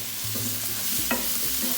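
Quince pieces tumble into a pan with oil, allspice-style seven spice, black pepper and cinnamon, and are stirred, giving a steady close sizzle with a few soft scrapes and clinks from the spoon.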